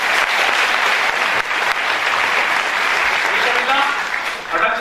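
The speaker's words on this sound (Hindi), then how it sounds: "तालियों से स्वागत करें।" Sustained, dense audience applause at a Hindi veer ras kavi sammelan, loud and steady throughout, with no pause.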